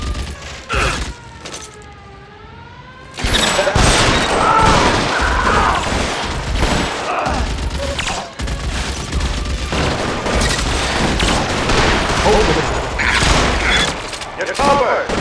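Sustained suppressing gunfire in the video game L.A. Noire, played on Nintendo Switch, comes as dense, loud volleys broken by heavy booms after a brief quieter opening, with shouted voices in the mix.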